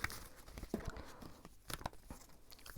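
Tarot cards being shuffled close up, with crisp crinkling and snapping bursts of card on card, uneven and quick, with no voices.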